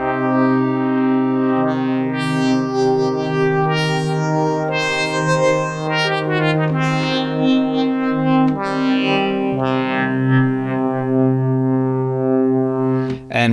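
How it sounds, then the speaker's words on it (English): A sustained Hydrasynth synthesizer pad with slowly shifting harmonics from the modulation matrix and a reverberant wash, playing continuously and evenly loud throughout. "I'm just going to give it a touch of reverb, and you can hear how the modulation matrix is really playing its role"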